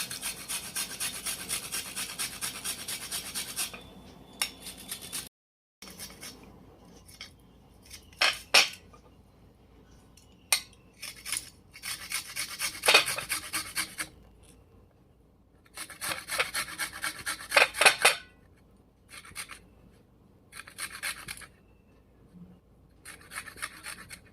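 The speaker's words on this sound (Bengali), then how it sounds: "এবারে এই আদাগুলোকে আমি একটু গ্রেট করে নিচ্ছি।" Fresh ginger rasped against a metal grater at home, in repeated bursts of close scraping strokes with short pauses between, and no talking.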